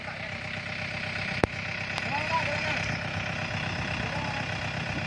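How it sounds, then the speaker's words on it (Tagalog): A Yanmar YM351A tractor engine idles steadily while warming up, a constant mid-pitched drone with a sharp knock early on, while someone talks over it. "Sige, painiton mo ang makina, makabuelo. Painita ang makina."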